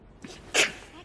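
A woman sneezes once, a sharp, fairly close burst after a faint intake of breath, in an otherwise quiet room.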